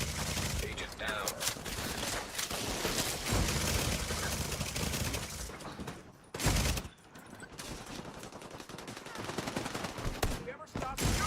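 Sustained gunfire in The Division 2 during a Dark Zone hunt: continuous, loud automatic bursts and rattling volleys fill the stretch, broken by a brief pause midway and a short gap near the end.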